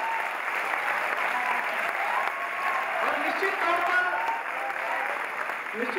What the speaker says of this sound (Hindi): आप जोरदार तालियों से इसमें अपने को शामिल करें।